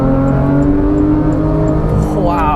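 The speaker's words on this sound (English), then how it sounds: "Just downshift, hit that paddle shifter." Porsche 911 GT3 (2015, 991.1) with PDK gearbox, engine droning loud and steady close by, then rising in a sharp rev after a paddle-shift downshift near the end.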